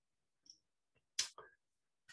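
A computer mouse click while confirming a dialog box, heard as a few short, crisp separate clicks in a quiet room, the loudest near the middle.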